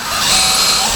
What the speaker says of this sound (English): we're going to very carefully drill as straight down as we can through the